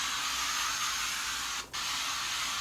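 A faint, steady hiss of Pat McGrath Glass 001 setting mist being sprayed runs throughout, broken by one brief gap, with no one speaking.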